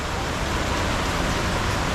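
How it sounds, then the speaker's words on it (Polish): Steady rain falls in New York, a dense, even hiss of drops on the street with a faint roadway murmur beneath, unbroken and with no voices. "niestety złapał nas deszcz"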